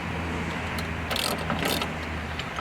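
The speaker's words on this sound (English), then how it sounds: "And it's a matter of just tightening it to the rail now." A locking nut being tightened on an aluminum gunwale slide track, close metallic ratcheting and grinding bursts over a steady background hum, with no talking.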